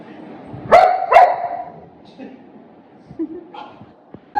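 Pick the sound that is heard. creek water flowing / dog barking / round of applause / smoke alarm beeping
dog barking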